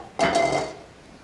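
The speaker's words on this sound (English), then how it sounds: "clearing the dishes off the table." Dishes being cleared off a table give one short, close clatter of crockery, a brief rattle that quickly fades into a quiet room.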